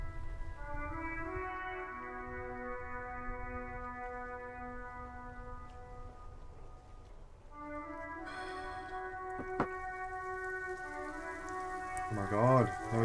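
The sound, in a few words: rain falling in video game Disco Elysium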